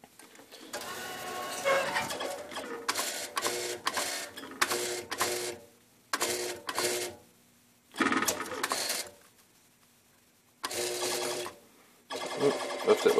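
A home claw machine whirs and buzzes in repeated motor bursts as the claw moves and grabs a prize, with pauses of silence between runs and a few faint words in between.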